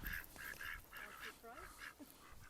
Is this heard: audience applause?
no